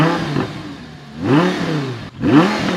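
Audi R8 V10 with a gated manual gearbox, naturally aspirated, revving in repeated swells: three rising and falling engine surges close by, with brief dips between blips and no talking.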